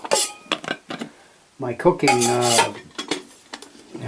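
Camping cups and cooking utensils handled up close: repeated metallic clinks and clatters in irregular bursts, with a voice speaking through the middle.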